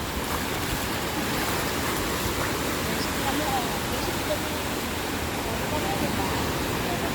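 Sea waves wash steadily along the shore where someone walks, a continuous broadband rush of surf that stays even and fairly close throughout, with no clear voices standing out.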